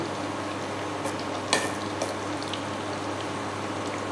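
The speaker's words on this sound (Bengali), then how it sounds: "যেরকম পকোড়া ভাজা হয় সেরকমভাবে গোল্ডেন কালার করে নিতে হবে" Baby corn pakoras deep frying in oil until golden, for an Indo-Chinese chilli baby corn starter: a soft, steady bubbling fry with a few sharp utensil clicks and taps, and no voices.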